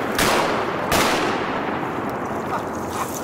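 Shotguns fired during a duck hunt, two loud close blasts in quick succession followed by a long rumbling echo and outdoor noise.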